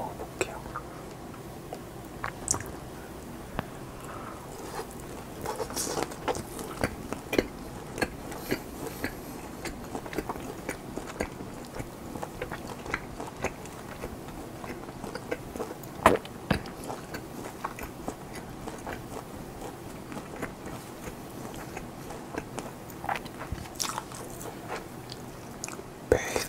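Close-up chewing and biting of soft, springy German-style homemade ham dipped in ketchup, steady moist mouth sounds with occasional crisper clicks running throughout, alone with no talking.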